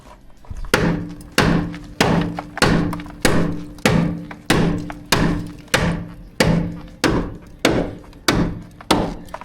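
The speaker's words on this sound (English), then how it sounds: "we're gonna try a much bigger hammer." A big hammer strikes near the pinch welds of a Lexus GX470 in about fourteen loud, heavy blows, each a sharp thud that rings briefly. The blows come in a steady rhythm, roughly one every two-thirds of a second.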